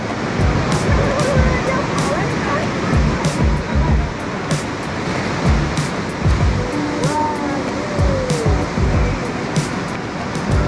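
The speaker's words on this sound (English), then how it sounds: "This is the beginning of the Niagara River." The Niagara River near its beginning, upstream of Niagara Falls in Canada, sends up a steady, broad roar of rushing water, close and continuous with no pauses.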